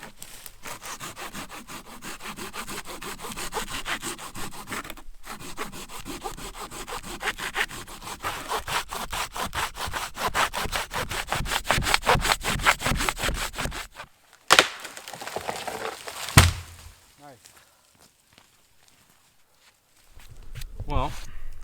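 A Silky Gomboy folding hand saw cuts through a tree trunk outdoors in fast, rhythmic rasping strokes for about fourteen seconds, then scattered cracks, footsteps and rustling follow, with a voice talking nearby.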